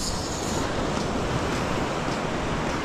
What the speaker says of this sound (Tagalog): Ito ay sa tabing dagat.